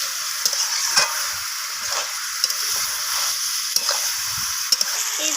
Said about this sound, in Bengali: সমস্ত কিছু মশলা এইভাবে চিকেনের সাথে আমি নাড়াচাড়া করে কষাতে থাকবো যতক্ষণ না চিকেন থেকে তেল ছেড়ে আসছে